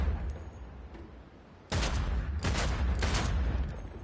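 Gunfire in Cyberpunk 2077 shooting at objects: a few loud, close bursts of shots after a quiet opening, with no talk.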